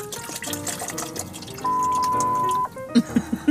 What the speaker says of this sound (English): You're pouring water.